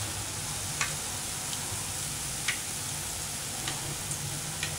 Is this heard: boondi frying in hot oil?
yes